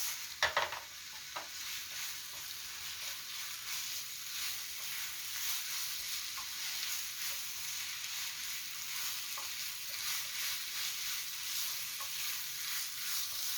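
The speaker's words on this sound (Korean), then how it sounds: "그리고 볶아주세요." Seasoned squid and fish cake stir-fried in a pan for a Korean side dish, giving a steady continuous sizzle with a few light stirring scrapes near the start, close and moderately loud, with no talking.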